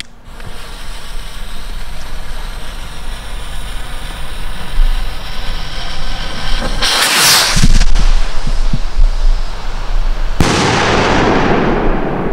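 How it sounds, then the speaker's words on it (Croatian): Firework rockets from Armageddon, Thunder and Top Gun sets fire near the listener: a steady background hiss, then a loud whooshing burst around seven seconds and another harsh roaring blast near the end. "Ovdje su sa mnom rakete, raketa iz seta Armageddon, raketa iz seta Thunder i raketa iz seta Top Gun."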